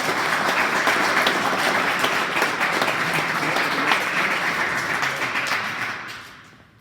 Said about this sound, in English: Peter Hansen, round of applause